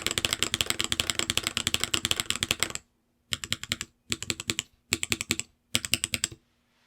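Mechanical keyboard fitted with Baby Kangaroo tactile switches, long-pole stems: a fast, resonant run of clacky keystrokes, then several short bursts of typing separated by brief pauses, close and crisp.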